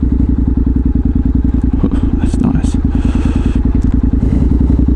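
Several motorcycles ride a paved strip where riders gather on weekends to practice their skills, their engines droning loud and steady throughout with a fast pulsing rhythm, while a person briefly speaks over the noise.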